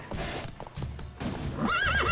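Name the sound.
horses neighing and hooves in the video game The Witcher 3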